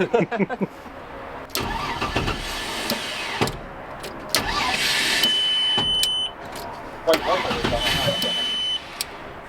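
An Audi S4 under repair cranks with a whining starter several times, catching and running briefly between attempts, with electronic chimes and people talking nearby.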